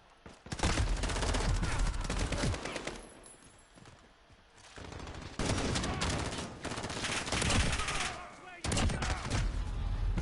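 Shotgun fire in Modern Warfare erupts in loud, rapid bursts of blasts mixed with other gunfire, broken by a brief quieter lull before the shooting picks up again, with no talking.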